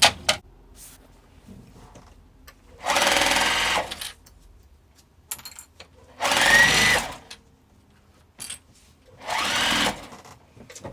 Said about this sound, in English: Now I'm going to stitch it down.